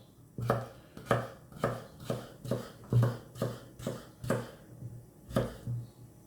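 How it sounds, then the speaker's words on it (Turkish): A knife dices potatoes into small cubes on a cutting board, about a dozen crisp even strikes in a regular rhythm, close by and with no speech. "Bunları küpler halinde, küçük küpler halinde doğrayacağım."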